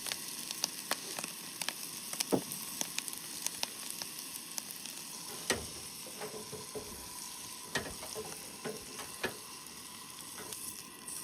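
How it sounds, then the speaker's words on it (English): Butter, about a tablespoon, sizzles in a hot pan at a truck camp, seasoned with garlic, salt and pepper, a steady crackling fry with sharp pops scattered throughout, close and alone. "just put some butter in here, about a tablespoon."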